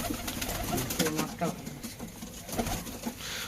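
Pigeons shift and flutter inside their coop, with soft cooing and light wing and foot patter coming in quiet bursts, fairly close.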